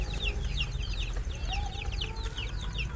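Free-range village chickens (ayam kampung) kept on an Indonesian farm cluck busily and repeatedly, with several birds calling over one another close by under a low background rumble.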